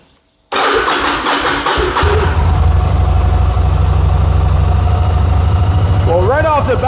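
Carbureted engine on full choke cranks and catches after a brief silence, then settles into a loud, steady rough idle close by, with a voice talking briefly near the end.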